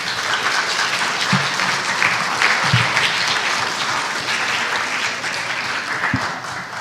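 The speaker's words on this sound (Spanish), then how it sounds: "Un aplauso, por favor." An audience at a conference on the Mexican publishing industry applauds in a sustained, even roar of many hands clapping, with a few sharper low thumps scattered through it.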